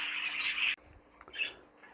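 Show birds in an aviary flight chirp and squawk nearby, a loud burst of shrill calls that cuts off, then softer scattered tweets, with no talking.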